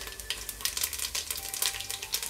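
Curry leaves with cinnamon, cloves, cardamom, fennel, bay leaf and cumin sauté in hot oil and ghee for a mutton kurma, giving a steady close sizzle with crackling bursts and stirring throughout, with no talk.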